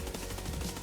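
M4 rifle fire on the shooting range in Escape From Tarkov, a short quick string of gunshots in rapid rhythm, fairly close but somewhat muffled, with no voices over it.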